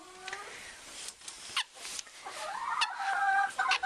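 Farm chickens clucking nearby, a few short rising and falling calls overlapping in quick bursts.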